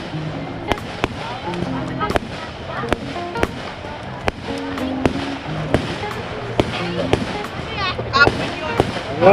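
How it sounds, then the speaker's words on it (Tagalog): Repeated sharp firecracker bangs and pops burst irregularly at a riverfront campsite birthday celebration, some sizzling between them, while people chatter and exclaim nearby. "Oh, may fireworks pa tayo."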